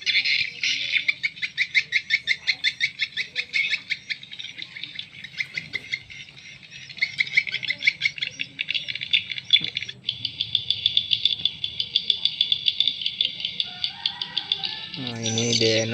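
Recorded swiftlet lure calls play on and on, rapid pulsed high chirps in repeating bursts at moderate loudness, with a brief lower squawky call near the end and no talking.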